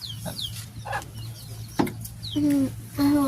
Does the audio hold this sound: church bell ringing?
no